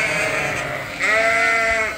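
Sheep in a large farm flock bleating loudly and close, one long wavering bleat over a steady background of other animals, with no talking.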